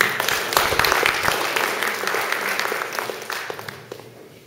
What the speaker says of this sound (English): giving a nice round of applause to our candidates up here tonight